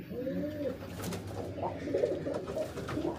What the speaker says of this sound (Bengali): এই যে আমার এই কবুতরের খোপে দেখেন বাচ্চা আছে।